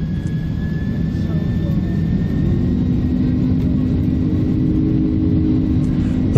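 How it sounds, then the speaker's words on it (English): A loud, steady airliner jet roar fills the cabin at full takeoff power and holds at full strength, a whining engine tone rising slightly as the thrust builds. "watch what happens when the pilot gives it full power for takeoff"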